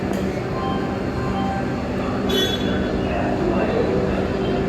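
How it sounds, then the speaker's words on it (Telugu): A Vande Bharat train arrives at Vijayawada station with a continuous loud broadband rumble and rush of carriages, a brief hiss partway through, while people talk on the platform. "ఇంకా ఇది మన ట్రైన్ ఇప్పుడే వచ్చింది."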